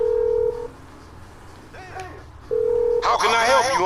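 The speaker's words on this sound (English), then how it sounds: "Let's phone Lamar, see what he wants to do." Phone call being placed to Lamar in Grand Theft Auto V: two steady ring tones, one early and one after a pause, then a voice answers and talk begins over the game's background.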